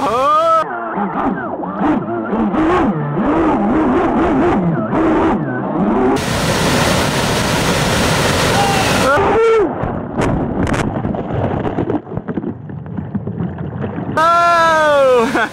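An RC Thrasher jet boat on a 5S lipo pushed over a turbulent waterfall: loud, continuous rushing water and splashing with bursts of motor whine and wind buffeting, close to the mic, with voices talking over parts of it.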